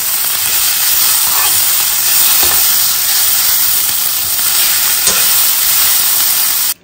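Pieces of meat fry in mustard oil, a loud, close, dense sizzle and hiss that stays constant until it stops suddenly at the end.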